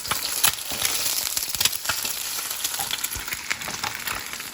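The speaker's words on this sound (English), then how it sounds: "Firstly, I put the eggs in here to fry." Eggs fry in a hot wok for Singapore mei fun, a continuous close, loud sizzle with crackling pops and occasional scraping stirs.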